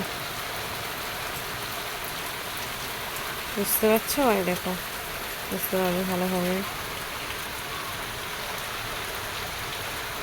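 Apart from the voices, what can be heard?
rain falling during a thunderstorm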